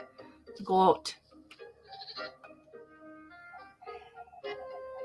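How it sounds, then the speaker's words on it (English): A goat bleats in the video game Little Goody Two Shoes, a loud close burst near the start followed by quieter game sounds and music with a voice talking over them. "Goat."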